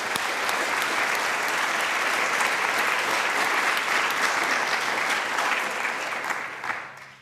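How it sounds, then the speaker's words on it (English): Sustained, dense applause from a large audience at an International Women's Day event, honouring the women who organised it. It holds steady and loud throughout, then begins to fade in the final second. "give a massive round of applause to all the women who have brought this event together"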